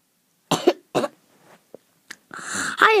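A young girl coughs in several sharp, close bursts with short pauses between them, followed by a throat-clearing sound and a brief vocal noise at the end.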